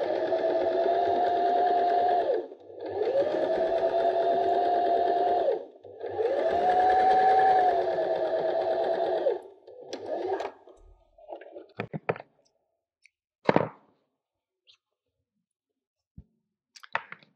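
A sewing machine zigzag-stitches a fabric bird appliqué in three steady, close running bursts with short pauses between them, then stops, leaving sparse clicks and fabric handling.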